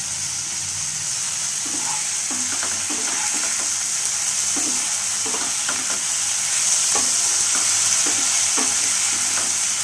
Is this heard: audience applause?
no